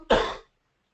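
One short, sharp cough, close and fairly loud, followed by silence.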